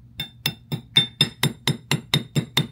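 Small 2-ounce hammer tapping a roll pin into a Smith & Wesson M&P Shield pistol slide: about ten evenly spaced metallic taps with bright ringing, close and clear, with no talking.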